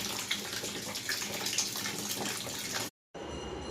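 Stored water drains out of a household water tank as a steady, close gushing flow of running water with no talk, then cuts off briefly near the end.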